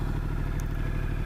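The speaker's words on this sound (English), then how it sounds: "Really like this engine." A Ducati Multistrada Pikes Peak motorcycle engine running nearby, a loud steady throbbing mechanical rumble with a rapid pulsing beat and faint clatter, no talk over it.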